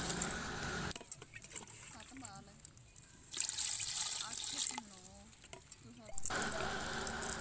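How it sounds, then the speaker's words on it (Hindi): Water poured into a biryani pot for 1.5 kg of rice, outdoors by a river in a forest, running as a steady splashing trickle in bursts with soft background noise. "और अब इसके अंदर हम शामिल करेंगे पानी"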